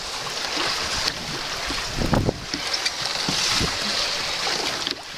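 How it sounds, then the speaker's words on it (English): Water washing and sloshing around a two-man ocean rowing boat on the Atlantic, with steady wind buffeting the microphone and a few louder splashes midway. "in a two-man ocean rowing boat."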